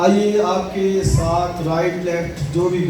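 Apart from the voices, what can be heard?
No distinct noise like a dog, phone or traffic.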